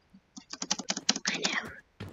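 Rapid computer keyboard key presses used to trigger slow motion in the horse game Tales of Rein Ravine, a quick run of close, crisp clicks followed by a brief pause and one more tap.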